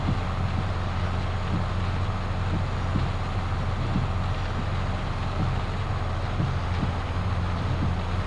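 A tractor driving in Farming Simulator 22 on the Black Hills map gives a steady, unbroken low engine drone with a constant rumbling hum that holds for the whole stretch.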